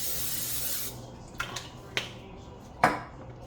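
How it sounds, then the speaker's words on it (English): Pam non-stick cooking spray hisses into a breakfast pan in one steady, close burst lasting under a second. A few light clicks and taps of the can and pan follow in the quiet afterward. "We're gonna spray a little Pam non-stick spray."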